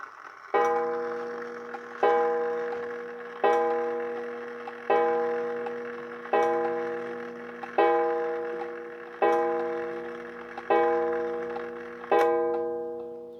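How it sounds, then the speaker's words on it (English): An antique Ansonia kitchen clock strikes nine o'clock: nine evenly spaced, ringing chimes about one and a half seconds apart, each fading before the next, with no talking. "if we wind it forward, we should get 9 strikes at 9 o'clock."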